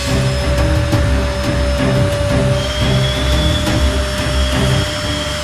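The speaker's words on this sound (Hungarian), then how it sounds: "Tervezéskor kicsit túlbecsültem a porszívó teljesítményét, de miután szigetelőszalaggal eltömítettem a házi készítésű cső legtöbb nyílását, már egészen elviselhető szívóerőt sikerült elérni." A homemade vacuum cleaner with a taped-up suction tube runs continuously and loudly at close range, a steady whirring drone with a faint rhythmic pulsing, used to clear debris from a weaver ant colony nest.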